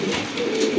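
Pigeons at a pigeon farm, a close, loud, low cooing call rolling on through the short stretch without any talking.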